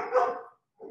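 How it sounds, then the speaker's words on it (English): A dog gives two quick close barks, the first louder and fuller, the second shorter after a brief pause. "My dog says hi to everybody."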